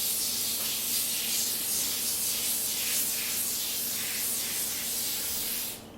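Aerosol cooking spray hisses steadily onto a parchment- or wax-paper-lined round cake pan for a layer cake, one continuous close spray lasting several seconds and cutting off at the end.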